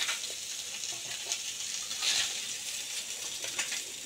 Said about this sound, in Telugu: దీన్ని మనం డీప్గా ఫ్రై చేసుకొని అవసరం లేదు, లైట్గా ఫ్రై చేసుకుందాం